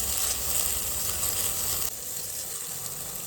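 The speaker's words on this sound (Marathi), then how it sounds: "आपण याच्यामध्ये थोडासा टोमॅटो आणि लसूण टाकलेला तो थोडासा सॉफ्ट होऊपर्यंत आपण भाजून घेऊया त्याला" Tomato and garlic roast in a pan, giving a soft, steady hiss and sizzle that stays even and close, dropping slightly in level partway through, with no voices.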